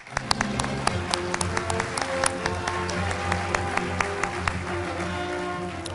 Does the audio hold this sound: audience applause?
yes